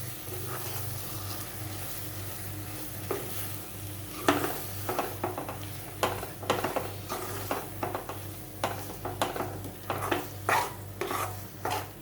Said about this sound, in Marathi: हे व्यवस्थित असे मिक्स करून घ्यायचं